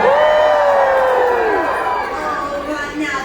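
Cruise ship audience aboard the Disney Wonder cheers loudly on cue at a sea-day baby diaper race, a dense crowd roar with high shouts from children that swells at once and then tapers off.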